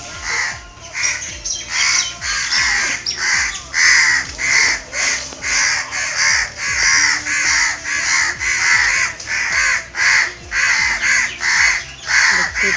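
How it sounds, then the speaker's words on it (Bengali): Crows caw loudly and repeatedly around a house where a dead crow lies, the harsh calls overlapping in a steady, insistent rhythm with no talk. "কাকগুলো এসে কাক কাক করছে।"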